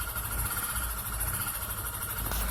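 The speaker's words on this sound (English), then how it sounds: "Okay, there is a ticking noise coming." A car engine idles steadily with a low, continuous rumble and a faint rapid ticking running through it, with no talking.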